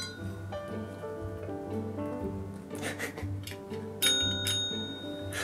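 A cat taps a small metal bell for food, giving a series of bright rings with long decaying tones, several strikes in a row, followed by a few sharper clinks near the end, no speech.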